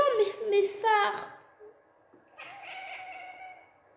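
A domestic cat meows and caterwauls in a drawn-out, wavering series near the start, then a second quieter yowl follows after a pause, with a voice speaking lightly in the room.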